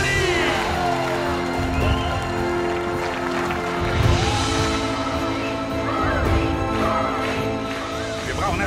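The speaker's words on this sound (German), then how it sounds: "Begrüßen Sie mit lautem Applaus das berühmteste Pony von den Shetland-Inseln" A circus crowd applauds and cheers for a famous Shetland pony, with a dense, continuous roar of clapping, whoops and shouts.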